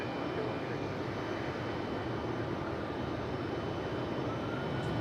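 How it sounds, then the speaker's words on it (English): A Spirit Airlines Airbus A321 arriving from Fort Lauderdale lands at Raleigh-Durham International at night, a steady broad jet roar that holds constant throughout. "Looks like an A321."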